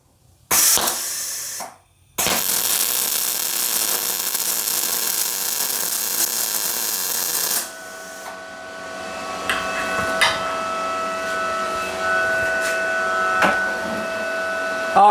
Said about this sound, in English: Just got to do a little bit of welding on this thing here.